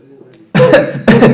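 Two sharp, loud coughs in quick succession follow a brief murmur of speech at the start.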